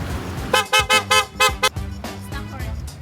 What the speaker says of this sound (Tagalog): Try natin yung horn.